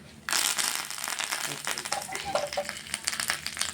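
Spices for a tempering hit hot oil with a sudden loud sizzle, then crackle and sputter continuously as the tempering fries, while making a tomato and ivy gourd chutney.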